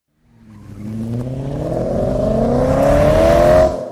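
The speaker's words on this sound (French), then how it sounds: "Le bruit de moteur devenait assourdissant, bien plus fort que celui d'une voiture ordinaire." A car engine roars up from silence, its pitch climbing steadily as it revs louder over a few seconds, then cuts off abruptly.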